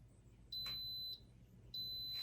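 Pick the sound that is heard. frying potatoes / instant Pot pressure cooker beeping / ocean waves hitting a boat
instant Pot pressure cooker beeping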